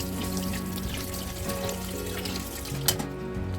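Tap water runs steadily into a pan as salted dried beef is rinsed to draw out the salt, a continuous splashing flow with a brief clatter near the end.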